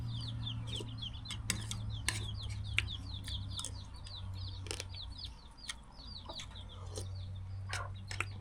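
Chickens clucking and a rooster calling at a rural home, repeated short clucks in quick bursts with sharp wingbeats and taps, fairly faint against a low steady hum.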